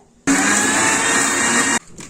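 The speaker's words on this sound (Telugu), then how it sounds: "అలా ఒక పచ్చిమిర్చి చేసి దీన్ని మిక్సీ పట్టాలి." A mixer grinder whirs loudly and steadily for about a second and a half as it blends coriander, mint, green chilli and tamarind juice into a paste, then cuts off abruptly.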